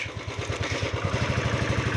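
A motorcycle engine idles close by at a Hyderabad temple car park, a steady rapid low chugging pulse running evenly throughout with no voices.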